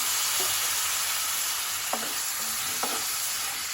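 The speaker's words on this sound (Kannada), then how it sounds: "ಕಟ್ ಮಾಡ್ಕೊಂಡಿರೋ ಬೀನ್ಸನ್ನು ಇದಕ್ಕೆ ಸೇರಿಸ್ತಾ ಇದ್ದೀನಿ" Cut beans tossed into a spiced masala and stirred in a hot pan, a steady close sizzle and fry hiss broken by a few soft scrapes of the spoon.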